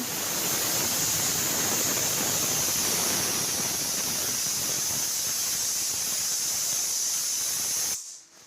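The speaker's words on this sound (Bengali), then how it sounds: "ডাল আলু সেদ্ধ হতে দিচ্ছি কুকারে।" A pressure cooker holding lentils and potatoes vents a loud, steady rush of steam with a high whistling edge, which holds constant for about eight seconds before cutting off abruptly.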